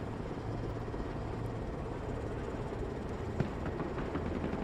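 An Apache attack helicopter in the Broken Arrows war game produces a steady, dense rotor and engine roar that fills the scene at an even level, with a faint click near the end.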